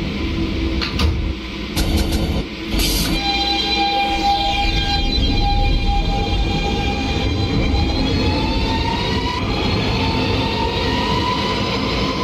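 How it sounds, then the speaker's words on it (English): A Bronx-bound 4 express subway train, a simulated R152A car in a train simulator, rolls along steadily with a loud continuous rumble and a rising motor whine, with a few door or coupling clunks near the start. "This is a Bronx-bound 4 express train."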